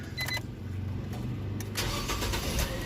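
Nissan Almera engine cranking and firing up after a fuel pump replacement, settling into a steady close idle that runs throughout the clip with no talk.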